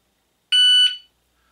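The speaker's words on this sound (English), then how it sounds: "there was a series of beeps, or the beep that we was waiting for. That was the 60 second beep." A single short electronic beep from a motion-activated alarm auto dialer signalling it is arming after 60 seconds, a bright piercing tone lasting about half a second, sounding alone against silence.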